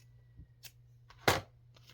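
Scrap material being trimmed off a journal card: a couple of faint snips, then one sharp, crisp cut up close, in otherwise quiet surroundings.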